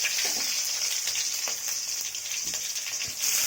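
Fennel, cinnamon and green chilli frying in hot oil for a South Indian vada curry, a bright continuous close sizzle with occasional soft stirring scrapes, no voices.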